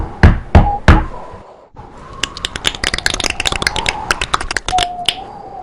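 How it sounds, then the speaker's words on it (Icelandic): Three hard, sharp knocks strike a coffin lid, followed by a rapid, uneven flurry of clattering taps and bangs, loud and close. "Svo bankar hann fast á kistulokið."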